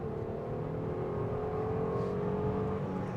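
A Renault Avantime with a five-speed automatic gearbox at about 90 mph, foot to the floor on kickdown: a steady, loud engine drone with a slowly rising whine, heard from inside the car with no talking.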